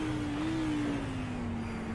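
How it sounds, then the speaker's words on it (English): A race car engine in the sim racing game iRacing at Sebring, holding a steady, slightly wavering drone with a faint pitch dip, loud and close with no talk. "We don't have a bad sounding car on the grid, do we?"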